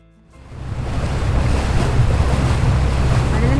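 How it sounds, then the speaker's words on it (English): A boat cruises across a calm sea, with a steady wash of water and wind noise rising in the first half-second and then holding loud and even throughout, and no one speaks. "It was a pleasant ride on calm waters in the sea"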